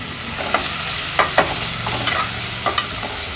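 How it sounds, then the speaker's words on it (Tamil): Cashews sauté in a hot oiled pan, a steady close sizzle broken by several soft scraping stir strokes spaced irregularly. "ஒரு 4-5 முந்திரி போல் இதில் சேர்த்துக்கிறேன்."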